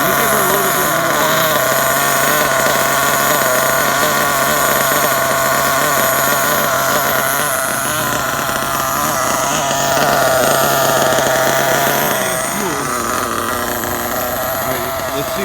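A Losi 8ight RTR nitro truggy engine runs loud and steady at throttle, a continuous buzzing drone with slight fluctuations and a small surge near the end, with no talk over it.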